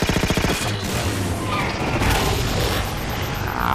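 Rapid, heavy incineration cannon fire roars continuously in Halo 4, dense and loud, with mechanical clatter and rumbling blasts.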